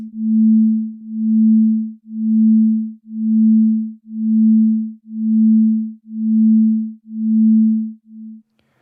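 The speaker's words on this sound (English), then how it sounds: "We get a 1 Hertz beating sound." Amplitude-modulated sine tones at 219 and 221 Hz beating once per second, a pure low hum swelling and fading in eight even pulses before cutting off, loud and alone.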